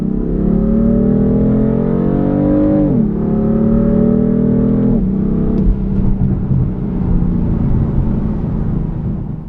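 A 2015 BMW M3 sedan's engine revs through rising gears, its intake sound amplified through the cabin speakers, climbing in pitch, dropping at each shift, then settling into a steady loud drone.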